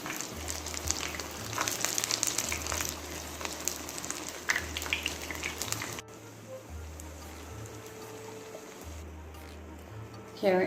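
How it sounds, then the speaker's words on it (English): Grenadian saltfish and smoked herring fishcakes frying in oil in a pot, giving off a soft continuous sizzle and crackle, fairly faint, with a low hum underneath and a brief clunk at the end. "we're gonna allow it to fry until it's nice and golden brown"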